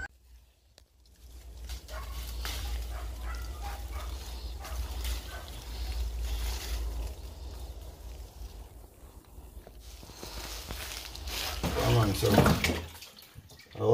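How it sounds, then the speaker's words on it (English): Passion fruit being washed in water, with a steady run of splashing and sloshing plus a low rumbling background, moderately close; a voice is faintly present near the end. "So, I wash the passion fruit."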